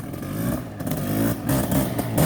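A Honda CR500R Kaplan America Edition two-stroke motorcycle engine revs hard nearby, its loud raspy note rising and falling in quick blips.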